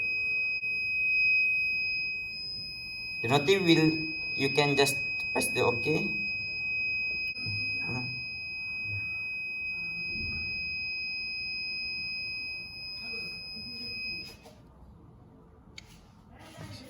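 A Raspberry Pi IoT fire-detection device's buzzer sounds as a steady, piercing high tone that holds for about fourteen seconds before cutting off, while someone talks over it.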